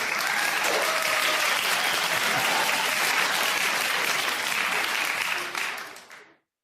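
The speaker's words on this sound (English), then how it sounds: "That deserves an applause." A dense, steady burst of applause from a crowd holds at full strength for about five seconds, then quickly fades away to silence.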